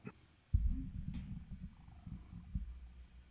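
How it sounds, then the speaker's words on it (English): A domestic cat purrs close by, a low steady rumbling that pulses with each breath and runs continuously after a brief quiet start, with no other sounds over it. "Can you hear my cat purring?"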